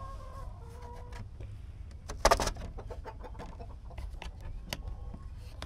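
Backyard homestead chickens cluck and call as they are let out, a scattered run of short near clucks with one louder burst partway through over low outdoor rumble.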